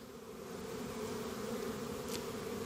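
Honeybee drones and workers buzzing inside a hive, a steady dense hum that swells slightly and holds, close and continuous with no talking.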